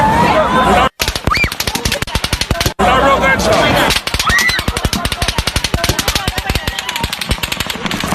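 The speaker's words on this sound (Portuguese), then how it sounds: "parece algo mais próximo de uma arma de repetição, uma metralhadora" Rapid bursts of machine gun fire crackle in long sustained volleys, loud and dense, with a couple of brief pauses between strings of shots.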